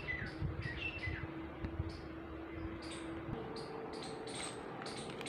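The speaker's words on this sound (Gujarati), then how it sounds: "પંખીડા કિલ્લોલ કરે." Small birds chirp and tweet repeatedly in short bright calls near a cotton field during the harvest, over a steady low hum and faint background noise, with no talking.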